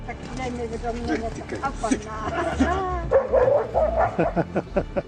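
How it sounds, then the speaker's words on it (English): A dog barks repeatedly at a large bear trying to push into its owner's yard, the yaps and barks overlapping with someone narrating throughout. "you see a dog barking at a bear as it was trying to barge in the yard of his owner"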